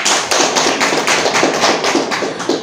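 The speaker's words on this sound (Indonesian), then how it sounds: "kasih aplaus dulu buat temennya" A group of classmates in a school counselling session applauds together, dense continuous clapping from many hands close by, loud and even for a few seconds with no voices over it.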